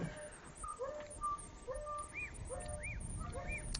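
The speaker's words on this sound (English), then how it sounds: "Who can identify the bird that's calling in the wild dog who call?" A faint bird calls several times in short rising, arching notes over steady outdoor hiss and low rumble, distant and sparse.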